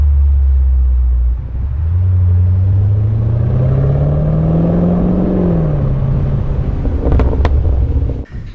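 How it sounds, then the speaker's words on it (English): A Land Rover Defender V8 fitted with a QuickSilver exhaust, a resonated centre box, an H-pipe and large valved tailpipes, idles with a deep rumble, then revs up in a rising, throaty swell and settles back, loud and close. "It gives you a really nice, robust V8 tone."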